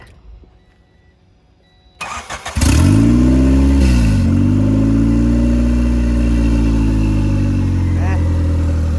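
A turbocharged Honda Civic EG hatchback with about 300,000 miles cranks over and starts, then settles into a loud, steady idle close by. There is low background noise before the start.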